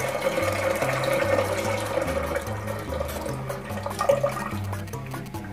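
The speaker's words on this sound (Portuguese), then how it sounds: "Agora eu vou colocar água na panela." Water poured into a cooking pot of beans, a continuous splashing gush and filling rush with a low mechanical hum beneath it, steady for several seconds.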